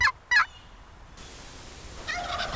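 Wild turkey gobbling in southeast Montana, two quick loud gobbles near the start, then a fainter, more distant rattling call toward the end against quiet background hiss.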